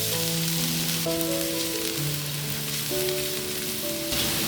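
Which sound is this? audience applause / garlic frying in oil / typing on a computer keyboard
garlic frying in oil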